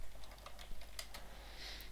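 Quiet clicking keystrokes on a computer keyboard as a command is typed for a Minecraft server, irregular taps in short bursts over a faint low hum, no talk.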